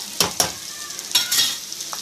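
Carrot pieces sizzle softly in oil in a pan, with a few sharp scraping stirs of a utensil breaking in over the quiet frying.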